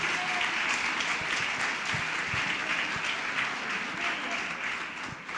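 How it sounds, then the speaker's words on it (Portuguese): A church congregation applauds steadily throughout, a dense, continuous wash of clapping that fills the room at an even level. "Pode aplaudir ao Senhor."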